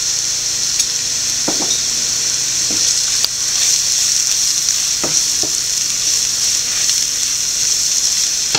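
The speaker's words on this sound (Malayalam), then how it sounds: "പച്ചമണം മാറുന്നിടം വരെ വഴറ്റുക." Masala sautéing in a pan for mutton peralan, a loud continuous frying sizzle with a few sharp spoon-against-pan clicks and scrapes as it is stirred.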